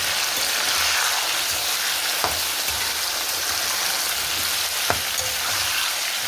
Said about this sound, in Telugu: ఈ చికెన్ అంతా మనము ఆయిల్లో కలిపేసుకోవాలి